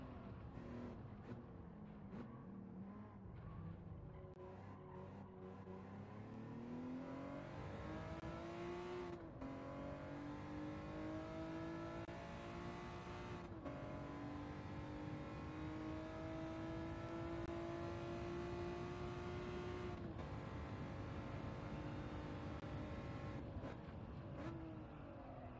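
A racing car engine in Gran Turismo 7 drones steadily and close, its pitch climbing through the gears with shifts that come every few seconds, and no talking over it.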